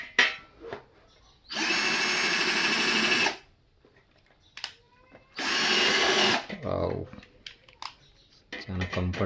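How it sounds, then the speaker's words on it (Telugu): A cordless charging drill whirs through metal in two sustained bursts of a couple of seconds each, loud and close, with clicks, handling knocks and a voice speaking in the pauses between. "మెటల్కి డ్రిల్ చేద్దాం"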